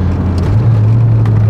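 Inside a light Renault 5 GT Turbo Raider Edition, the engine drones steadily and its pitch steps down through a downshift, with a low, loud hum filling the cabin.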